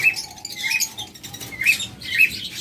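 Lovebirds in a bird shop give off bright, high chirps in quick repeated bursts, close and lively, with a softer chatter of other birds behind them and no voices.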